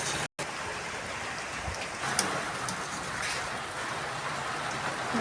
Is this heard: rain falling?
yes